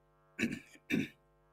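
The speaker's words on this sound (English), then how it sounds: "Let me clear my throat." Two rough throat-clearing bursts in quick succession, close and fairly loud over a low steady hum.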